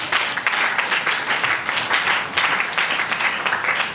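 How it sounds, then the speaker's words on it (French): Church congregation applauding and cheering in acclaim of the king of kings, a steady roar of clapping and voices filling the room for the whole stretch without a break. "Quelqu'un peut acclamer pour le roi de roi."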